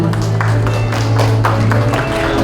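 At the opening ceremony of a model competition, an audience applauds an agreement signing: a loud, dense wash of clapping with a steady low hum beneath it.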